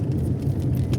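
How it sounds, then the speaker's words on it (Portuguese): A truck rumbles past close by on the road, a low, steady engine drone heard alone for about a second. "Ai, que vem um caminhão aí."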